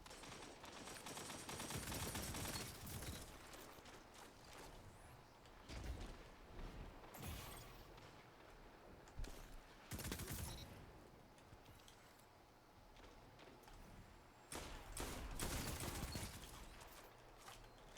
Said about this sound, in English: This guy's just shooting dirt.